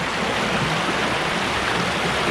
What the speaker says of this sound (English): Very noisy water, you heard ya? It is, isn't it? It's babbling over the rocks.